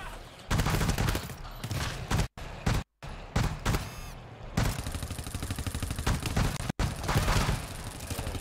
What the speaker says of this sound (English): this burst rifle is really strong